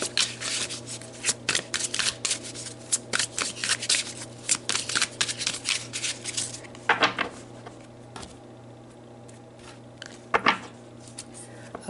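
Tarot cards are shuffled by hand in crisp, papery riffling bursts, rapid and close, with short pauses between rounds and a quieter stretch near the end.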